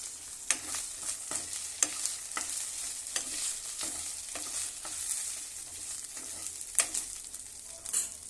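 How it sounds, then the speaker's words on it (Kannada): Onions and two green chillies frying in a pan, a soft continuous sizzle punctuated by regular scraping stirs of a spatula, fairly quiet and with no talk. "ಈರುಳ್ಳಿ ಫ್ರೈ ಆಗಬೇಕ್ರಿ ಹಸಿಮೆಣ್ಸಿನ್ಕಾಯಿ ಹಾಕ್ತೀನಿ ಎರಡು ಹಸಿಮೆಣ್ಸಿನ್ಕಾಯಿ"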